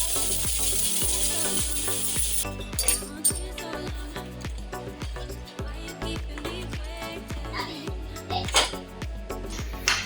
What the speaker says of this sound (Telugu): ఆయిల్ ఫిల్టర్ పెడుతున్నారు